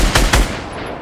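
Gunfire in the Fortnite video game: a few loud, close shots in quick succession early on, then a quieter tail with faint high ringing at the end.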